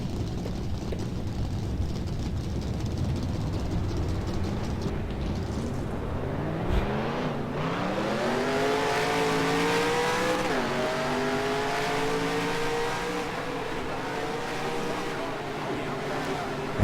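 Race car engines in the NR2003 NASCAR racing game drone steadily, then rise in pitch as the cars accelerate off the start at Michigan, a continuous dense roar heard without talking.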